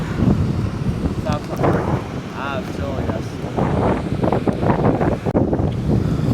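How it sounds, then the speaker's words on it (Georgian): Strong wind buffets the microphone in a constant heavy roar, with a voice faintly audible underneath. "ქარია ძალიან"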